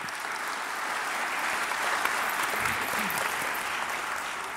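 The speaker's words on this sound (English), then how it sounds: "You're clapping him." A televised debate audience gives sustained applause, a dense, even wash of clapping that swells slightly midway and continues steadily throughout at moderate volume.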